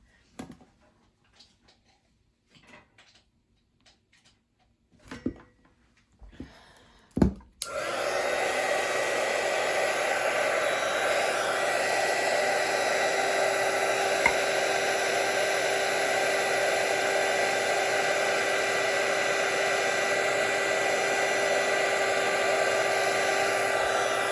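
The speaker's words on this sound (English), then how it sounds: "If they stick like this, use your heat gun, plug it in first." A heat gun switches on after a few scattered handling clicks and then runs with a loud, steady blowing whir that continues unchanged to the end.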